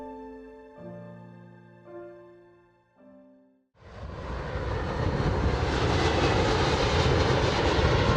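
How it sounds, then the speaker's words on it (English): A fixed-wing airplane passes over East Boston near the airport, its engine roar swelling in abruptly and holding loud and broad for several seconds after a few quiet tonal notes. "the airplanes that flew over"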